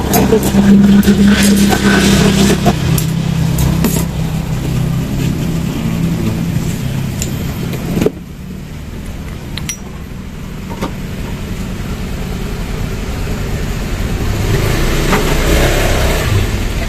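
A Kawasaki Ninja R engine runs rough and noisy with a worn, chewed-up brass gear in the lower starter section, giving a loud steady mechanical drone with a sudden dip partway, then climbing again toward the end.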